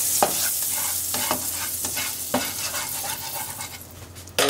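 Crepe batter sizzles in an oiled pan while a spatula scrapes and taps against it in several distinct strokes, with a sharper clatter at the very end and no talking.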